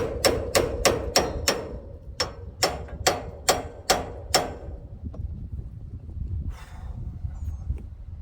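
Ratchet wrench straining on a stubborn fastener, clicking in short bursts of five or so sharp, close ticks with pauses between, over low background rumble.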